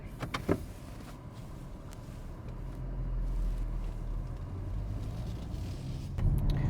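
A 2025 BMW M135 drives along an open road, a steady low rumble of engine and road noise continuing throughout, swelling slightly near the end with no voices.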